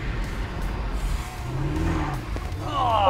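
A race car engine revs hard at open throttle during a driving challenge, a loud, continuous roar that builds toward the end, with hints of tire squeal and faint voices underneath.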